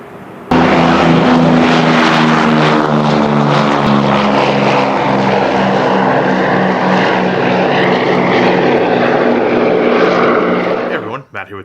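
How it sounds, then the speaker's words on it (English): Air compressor running loudly and close at a model building bench, a steady droning hum with a strong tonal whine that holds for about ten seconds and then cuts off. "Shut up, compressor."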